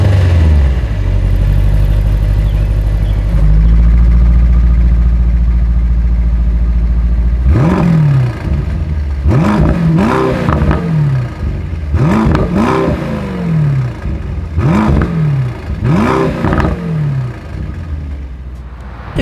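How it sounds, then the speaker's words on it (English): A 2024 Mercedes-AMG GT 55 Coupe idles loudly, then its exhaust barks through a series of sharp throttle blips, roughly six quick revs that rise and fall in a steady rhythm. "As always, here is that exhaust clip."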